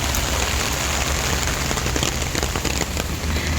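Heavy rain pours continuously in Hong Kong, a dense, loud hiss of drops striking surfaces with no pauses and no voices.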